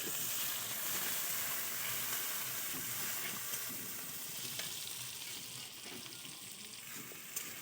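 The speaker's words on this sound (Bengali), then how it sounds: "ফোড়নে দিলাম দুটো তেজপাতা শুকনো লঙ্কা পেঁয়াজ কুচুনো দিয়ে দিলাম" Chopped onion, bay leaves and dried red chili fry in hot oil in a kadai, a dense steady sizzle with faint stirring scrapes, close and continuous throughout.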